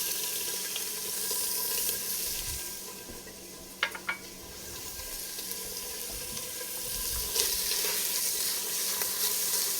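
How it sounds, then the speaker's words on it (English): Bacon cooking in olive oil over medium-high heat gives a steady, moderate sizzle and hiss that runs throughout, with a couple of sharp little pops and crackles in the middle. "So we are going to cook down our bacon."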